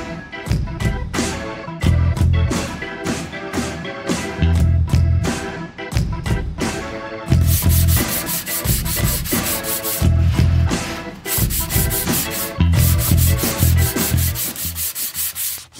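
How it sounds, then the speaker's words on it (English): A sanding machine smooths a CNC-cut wooden piece being made as a Christmas present, giving a loud, steady abrasive rasp that pulses in rhythmic bursts throughout, with no talking. "The sanding machine will fix that."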